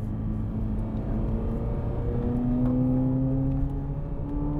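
A 2023 Chevrolet Corvette C8 Z06 on 21-inch wheels with 345-25 tyres drives a race circuit, its engine a steady, close whirring drone that rises slightly in pitch mid-pass.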